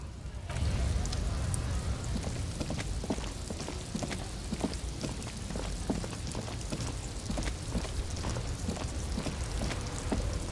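Steady rain in Disco Elysium hisses continuously with scattered pattering drops during a traffic jam, a dense wash of noise filling the whole stretch without pause.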